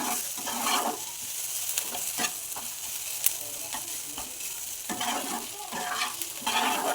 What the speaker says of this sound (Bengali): তেলটা দিয়ে আমি আবার ভালো করে নাড়াচাড়া করলাম